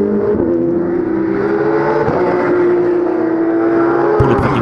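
A race car at a circuit on a slippery, treacherous track, its engine droning steadily at high revs from fairly close, with a brief sharp jolt of noise near the end.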